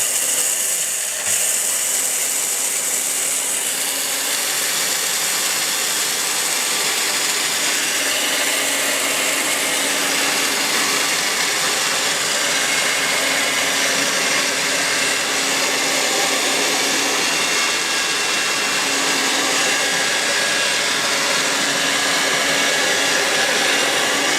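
An ORPAT 1200-watt electric blender grinding dry spices, running as a loud, steady, high-pitched motor whir with a gritty rattle that holds without a break for over twenty seconds, close up and with no voices.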